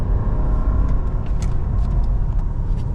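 A Volvo S90 D5 sedan accelerates hard in a 0-100 km/h run, with a loud, continuous low engine and road rumble heard from inside the cabin.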